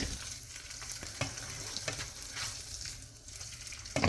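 Eggs fry in grease in a pan for a simple breakfast bowl, giving a steady close crackling sizzle with scattered pops and small spatter bursts throughout and no talking.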